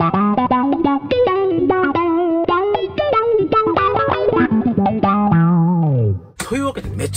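Electric guitar run through a SUMO TRON auto-wah pedal set to a mix of high range, playing a busy series of picked notes with sweeping filtered tone, loud and close, ending in a falling slide before a brief noisy burst.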